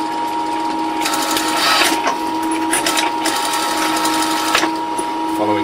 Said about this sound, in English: Now we're going to sew the face to the back of the head.